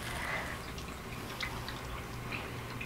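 Water dripping softly during a quiet meditation, faint scattered drips and trickling over a low steady background hum.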